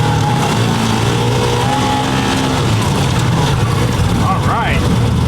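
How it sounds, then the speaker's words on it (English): A side-by-side off-road vehicle grinds along in low-range four-wheel drive, its engine droning loud and steady close by, with a brief rising whine near the end. "it took a minute for the four-wheel drive to kick in there"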